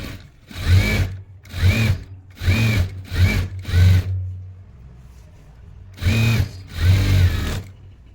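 A sewing machine running in five short bursts, then a pause and two more, each a buzzy mechanical whir of stitches being laid down on stretchable T-shirt fabric, close and steady.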